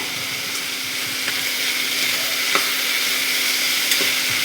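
Vegetables sautéing in a pan with a little salt, a steady close sizzle with faint stirring scrapes and occasional light clicks, no voices.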